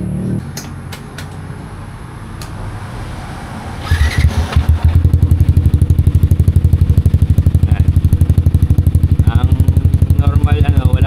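A Yamaha Sniper 155R motorcycle engine with an aftermarket exhaust starts up after some handling noise and settles into a loud, steady, rapid idling putter close by.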